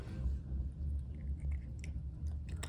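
A cat chewing crunchy treats up close, soft rhythmic crunches and small clicks repeating over a low rumbling background.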